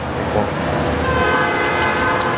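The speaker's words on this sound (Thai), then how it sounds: "ที่เมืองนี้มันมีรถไฟผ่านอยู่ตลอดเวลา" Train rolling through a small American town, a steady loud rumble of rail cars with a sustained horn-like tone layered on top, no talking.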